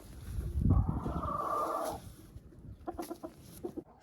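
Broiler chickens, hens and a rooster clucking together in a farmyard pen, a dense burst of squawking and clucking up close, then fading to scattered softer clucks and shuffling.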